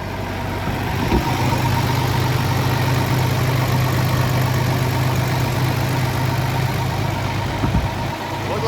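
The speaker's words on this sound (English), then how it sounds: "So let's go ahead and get this tractor started," A repaired tractor engine idles steadily and close by, a continuous low throbbing drone that holds even throughout, with a couple of faint clunks.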